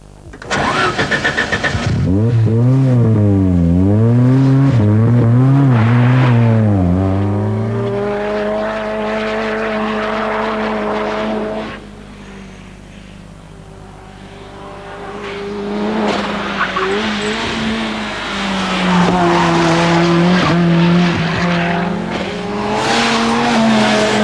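A Group A racing car starts and drives hard, its engine revving up and down in loud, close sweeps with tyre squeal, then settling into a steadier drone before revving again.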